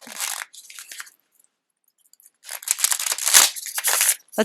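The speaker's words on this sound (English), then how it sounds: "I'm just going to shuffle a little bit more." Crisp papery riffling of tarot cards being shuffled in close bursts, a brief pause, then a longer flurry of rapid flicking and slapping.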